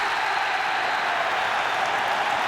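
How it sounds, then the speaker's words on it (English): A stadium crowd at Olympic Park roars after a Melbourne Victory goal against Central Coast in an A-League match, a steady, loud wash of cheering and clapping that holds without a break. "The crowd goes wild at Olympic Park."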